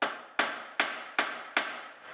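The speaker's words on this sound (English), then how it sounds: "I think you just need a heavier headed hammer." Five loud, close, evenly spaced hammer blows strike a suspension arm on a third-generation Honda Prelude during a restoration, each a sharp crack with a short ringing decay, with no talk over them.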